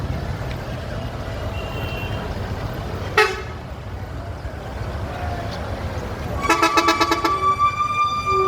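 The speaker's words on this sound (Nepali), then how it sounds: "यो बस पनि माथि प्यासेन्जरहरू लिएर तिनजुरेबाट आइसकेको छ।" A passenger bus arriving at a crowded hilltop tourist spot, a short horn toot followed by a rapid series of repeated beeps over a steady rumble of engines and distant crowd noise.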